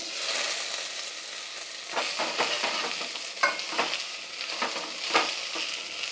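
Ganike greens tossed into hot oil with garlic give a steady close sizzle of frying, broken by scraping stirs and a few sharper clatters of the spatula against the pan.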